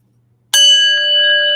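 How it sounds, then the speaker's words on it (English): A single bell struck once to bless a room rings out loud and close after a moment of silence, its clear metallic tone sustaining and slowly fading. "I use a bell that's really useful"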